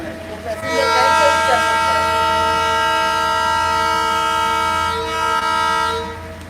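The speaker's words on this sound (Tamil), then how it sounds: "இது சின்ன ட்ரெயின் நல்லா இருக்கு" A small train lets out a long, loud, sustained whistling tone as it comes to a halt, with a low rumble underneath.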